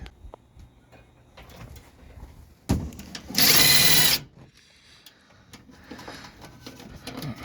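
A power tool tightens the Ride-Rite Firestone air bag suspension on a Ford F-150 in one loud, close burst of under a second, after a few clunks, with quiet workshop sounds around it.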